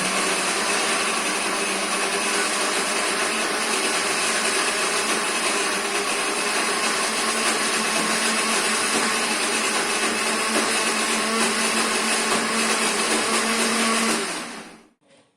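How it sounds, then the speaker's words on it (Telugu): Mixer grinder blending fried okra and green chillies for chutney, a loud, steady whir running continuously for about fourteen seconds alone, then cutting off abruptly. "ఇంకా వీటిని మిక్సీకి వేసుకుందాం"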